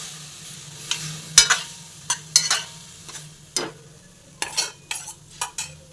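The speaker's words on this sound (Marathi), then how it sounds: "याला थोडंसं असं परतवून घेऊ, थोडंसं." Amla (Indian gooseberries) stir-fried in a pan for jam: a spatula scrapes and clacks against the pan in irregular, close bursts over a low, steady background hum, with no voices.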